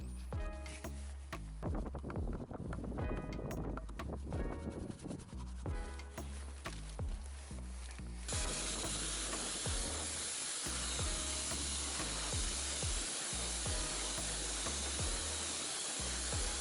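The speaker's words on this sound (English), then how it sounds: "And the last step in the first step, so to say, is then to rinse the wheels thoroughly." A water spray hissing steadily as the wheels of a 2020 BMW G20 are rinsed, with nearby clunks early on and a louder, denser spray in the second half.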